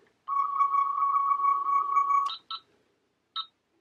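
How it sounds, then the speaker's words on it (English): A 1990s Star Trek tricorder toy sounds a long steady electronic tone, then a few short chirping beeps separated by brief pauses, near and alone. "This is my actual tricorder from the 90s, from Star Trek. And it still works."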